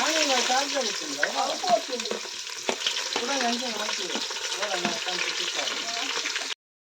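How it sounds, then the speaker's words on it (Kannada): Onions fry for a home-style dum biryani, giving a continuous close sizzle broken by repeated scraping stirs in the pan, while a voice talks over it until the sound cuts off abruptly. "ನೀರು ಕೆಂಪಾನ ಮುಟ್ಟ ಫ್ರೈ ಆವಡವು"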